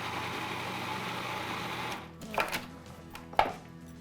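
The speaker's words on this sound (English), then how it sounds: "Why can't I get this stinking pepper to grind?" A pepper grinder being twisted in a home kitchen: a steady dense grinding rasp for about two seconds, then a pause broken by a couple of short, louder scraping turns.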